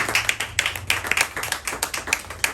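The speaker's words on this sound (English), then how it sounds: "Please, round of applause for Tina." Sparse audience applause at a poetry reading, a small group clapping in uneven, separate claps that sound nearby and fairly light.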